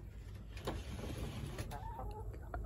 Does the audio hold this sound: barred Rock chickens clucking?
yes